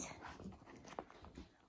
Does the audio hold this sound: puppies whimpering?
yes